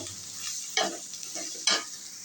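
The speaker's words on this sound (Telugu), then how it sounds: "మిల్ మేకర్ మంచిగా ఫ్రై అవుతుంది కదా" Soya chunks fry in hot oil as a spoon stirs them, producing a soft sizzle broken by two louder scraping stirs close by.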